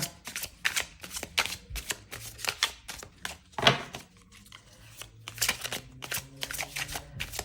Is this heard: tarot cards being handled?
yes